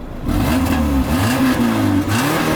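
A 1995 Subaru Legacy Postal, a US-market right-hand-drive car on its stock exhaust, revs up and down in one continuous, loud, close burst of engine noise with rising and falling pitch, and no talk over it.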